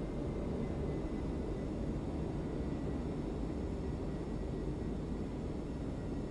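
An F-22 Raptor jet in Microsoft Flight Simulator, using the Top Mach Studios model with Echo19 sound, gives a constant, heavy engine roar that stays steady and close with no talking.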